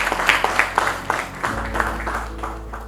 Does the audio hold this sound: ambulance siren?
no